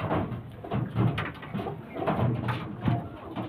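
Kaldum pigeons cooing close by, a run of soft, low, repeated coos over a steady background murmur.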